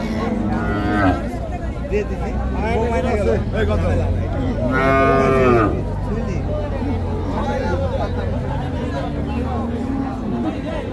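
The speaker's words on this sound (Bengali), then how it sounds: "এপাশে ছোট একটা এক জোড়া গরু আছে" Cattle moo repeatedly at a busy livestock market (haat) near Dhaka, with drawn-out calls rising over a constant crowd hubbub, as people talk and bargain nearby.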